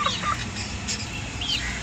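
Hens give scattered short clucks and squawks over a low steady background hum, a few calls near and fairly faint.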